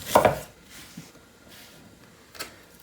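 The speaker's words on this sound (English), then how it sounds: "Slicing the onion in half and then placing that onion onto its flat side so it's not rolling around the cutting board." A knife cuts through a Vidalia onion on a cutting board, giving one sharp, loud chop followed by a few faint, sparse taps and a final crisp knock.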